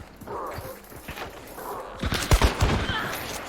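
Video game battle gunfire, with bursts of close, loud shots crackling rapidly near the end after a quieter stretch of scattered distant fire.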